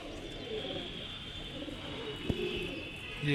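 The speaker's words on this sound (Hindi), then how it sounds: "कबूतर चढ़ गए ऊपर आसमान में" Pigeons cooing softly with low, repeated calls under a steady background hiss, as the flock circles overhead. One sharp click stands out midway, and no one speaks.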